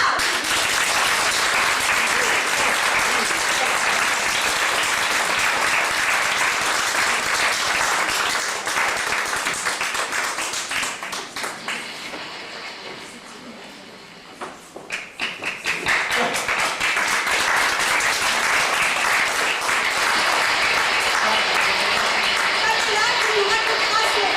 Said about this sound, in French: On applaudit bien fort Pamela.